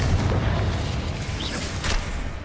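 In Hogwarts Legacy gameplay, spell explosions from Bombarda and Confringo blasts rumble as a dense, continuous booming roar with a brief whooshing burst partway through, loud and without commentary.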